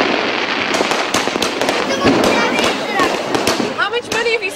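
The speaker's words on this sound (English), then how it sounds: "How much money have you spent on the fireworks?" Fireworks and firecrackers go off during Diwali celebrations in Delhi, with dense, rapid crackling bangs and sharp pops, loud and close, some whistling rockets near the end, and voices mixed into the din.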